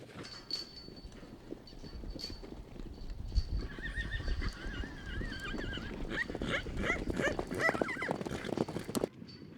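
Horses whinny and neigh over busy clopping hooves, with a dog barking now and then in the background, close and lively.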